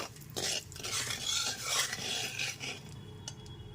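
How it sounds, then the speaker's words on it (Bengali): A spoon scrapes and stirs salt and turmeric powder around a pan over a low gas flame, giving close, continuous rasping strokes that fade toward the end. "লবণ আর হলুদ গুঁড়োটা খুব ভালো মতো মিশিয়ে নিচ্ছে"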